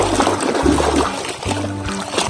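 Clean water splashes and trickles as a muddy toy vehicle is rinsed by hand, close and moderately loud in short bursts, with low background hum underneath.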